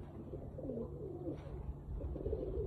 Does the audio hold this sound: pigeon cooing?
yes